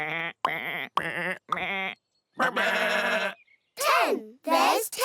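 Cartoon sheep bleat in a series of loud, close, wavering calls, about seven separate bleats of varying length with brief silences between, from a children's farm animals episode.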